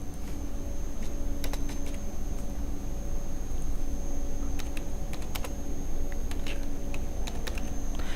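Card details are typed on a computer keyboard, with quick, irregular clusters of sharp key clicks over a steady background hiss while booking a train ticket online.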